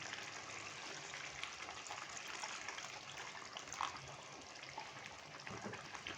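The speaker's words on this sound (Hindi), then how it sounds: "पानी डालूंगा तकरीबन ½ कप के करीब।" Half a cup of water poured into a simmering Punjabi fish curry, a faint, steady trickle and splash lasting several seconds, with no talk over it.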